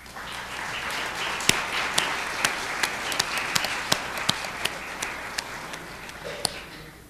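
An audience at a community college literary festival applauds an award winner, a steady wash of many hands clapping with sharp individual claps standing out, sustained throughout and tapering near the end, without talk.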